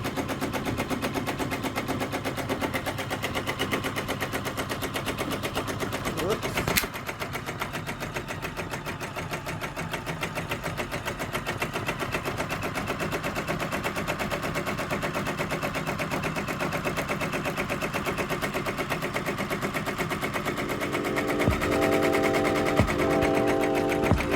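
An embroidery machine fitted with a Fast Frames hoop stitches out a design, a steady, rapid mechanical chatter heard up close and alone, running on without pause.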